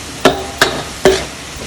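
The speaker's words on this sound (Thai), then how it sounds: "น้ำมันกับกระเทียมนะมาผัดอย่างนี้นะครับ" Garlic stir-fried in hot oil in a wok or pan, with three sharp scraping stirs against the metal spaced about a half second apart over a steady low sizzle, close and fairly loud.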